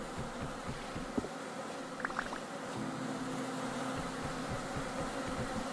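Bees in the video game Vintage Story buzz around straw skeps in a steady, low, droning hum, with a few faint higher whirs passing by.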